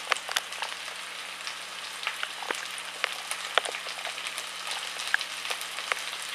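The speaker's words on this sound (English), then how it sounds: "You can hear the sizzle. That's what you want." Onions frying with garlic and ginger in a pan for tikka masala give off a steady close sizzle with scattered crackles and pops, no voices over it.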